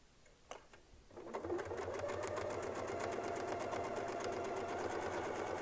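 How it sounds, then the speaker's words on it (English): A Westalee Spin E Fex 14 series quilting setup runs a single stitch, the sewing machine starting with a few ticks then whirring into a fast, steady, close rattle of needle strokes. "this last one will be single stitched"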